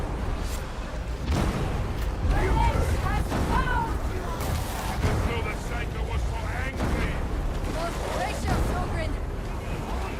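Explosion in the video game Darktide, a broad low rumble sustained under a dense din of combat noise, with a person talking over it throughout.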